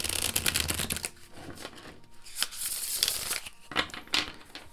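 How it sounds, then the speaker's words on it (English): A gilded oracle card deck with thick cardstock is shuffled by hand, giving rapid papery riffles and soft flicks in several bursts, close and alone. "Let me show you how it shuffles."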